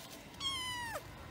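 A single cat gives one clear, drawn-out meow close by that falls in pitch at the end, with no other sound around it.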